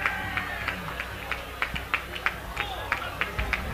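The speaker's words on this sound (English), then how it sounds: "The crowd is giving her all they can here at the finish" A crowd at a running race finish line cheers and claps for an injured runner, with sharp rhythmic claps and shouts over a dense background of voices.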